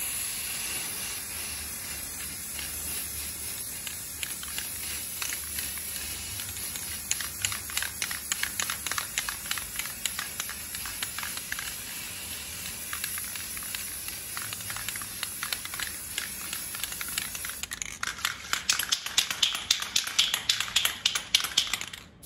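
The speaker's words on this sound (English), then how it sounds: "I'm about to spray the base coat of white on the glass." A nearly empty spray paint can sprays a white base coat onto glass: a steady aerosol hiss runs throughout, broken by rapid clicking taps, growing louder and harsher near the end.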